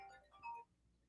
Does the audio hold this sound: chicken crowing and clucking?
no